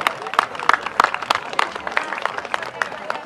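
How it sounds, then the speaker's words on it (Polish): A crowd at a children's sports memorial award ceremony applauds a girls' school team, with sharp irregular claps close by and cheering voices mixed in. "Brawa!"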